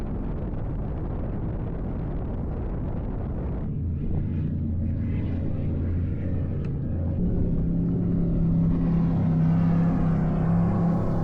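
Deep roaring engine rumble builds steadily, with low droning tones growing louder as racing speedboats approach close by on Lumparn, Åland, Finland; no voices.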